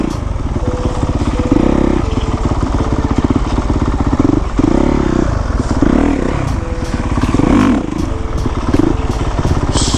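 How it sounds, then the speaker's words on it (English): A Honda 450 dirt bike revs up and down while riding in circles with heavy clutch work, its close, loud engine note rising and falling continuously, with clattering mechanical noise throughout. "So much clutch work on this 450 to do circles, man."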